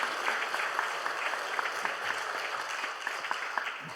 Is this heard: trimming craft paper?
no